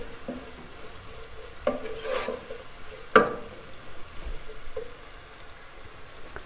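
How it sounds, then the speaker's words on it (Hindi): Onions frying in a pan and being stirred at intervals, giving a low, faint sizzle with a few sharper scrapes and clicks from the spoon, no voices. "प्याज हमारा फ्राई हो रहा है"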